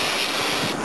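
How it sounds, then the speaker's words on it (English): A steady, close aerosol can of brake cleaner hisses continuously for under a second. "So I'm going to kill it first with some brake cleaner."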